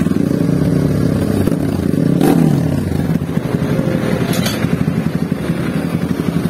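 Honda CRF trail motorcycle engine idling steadily up close, a dense low rumble with a brief rev swell and some mechanical clatter, no voices.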